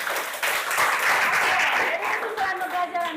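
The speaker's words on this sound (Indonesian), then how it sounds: "kita beri tepuk tangan untuk dia" Classroom audience clapping for a student during a primary school lesson, a dense burst of applause lasting about two seconds before a voice begins speaking over its fading tail.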